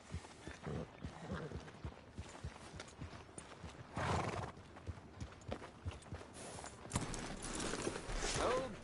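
Horse hooves clip-clop in a Western cowboy video game, with a neigh and faint mechanical game sounds, a quiet, irregular rhythm mixed with low background speech.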